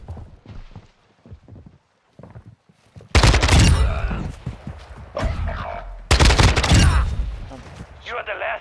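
Enemy gunfire in a first-person shooter Search and Destroy match: scattered light sounds at first, then two loud, dense bursts of close shots with a trailing tail of further fire.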